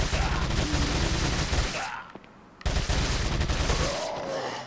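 A TMP submachine gun fires in Resident Evil 4 in two long, loud, rapid bursts, dense and close, separated by a brief near-silent gap, with no voices.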